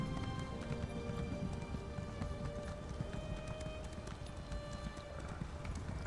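A horse gallops in The Elder Scrolls Online Morrowind, steady rapid hoofbeats drumming continuously at close range over a soft ambient background.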